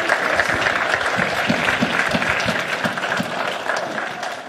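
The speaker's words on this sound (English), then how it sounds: "let's give a warm round of applause as he comes and preaches." Audience at a church service applauds a preacher coming up, a dense, sustained wash of clapping from many hands that fills the room at steady loudness throughout.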